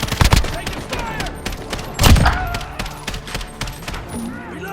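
Gunfire in the video game Call of Duty Modern Warfare: a loud burst of rapid shots up front, a heavy blast at about two seconds, then scattered volleys fading into background battle noise.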